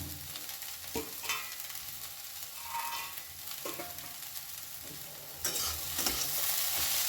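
Poha mixed with fried peanuts stirred in a pan, a soft continuous sizzle broken by irregular scrapes and taps of the spoon, growing brighter toward the end.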